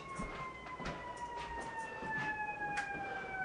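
A faint, steady siren tone drones in the distance during a scoring practice game, behind intermittent knocks and background noise.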